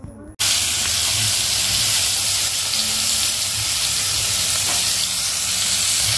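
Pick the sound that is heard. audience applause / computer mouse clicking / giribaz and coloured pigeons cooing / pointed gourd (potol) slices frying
pointed gourd (potol) slices frying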